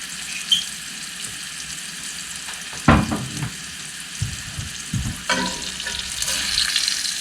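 Stuffed cheeseburgers sizzle on a grill with a steady crackling hiss, broken by a few sharp pops and spatters, close and without talk.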